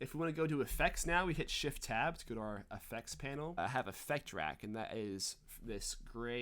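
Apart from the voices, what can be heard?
No everyday noises stand out.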